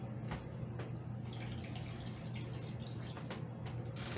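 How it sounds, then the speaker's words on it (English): Water trickles and drips steadily out of a container, quiet and close, with a faint low hum underneath. "there's some water in there, so we're going to let that drip out a little bit"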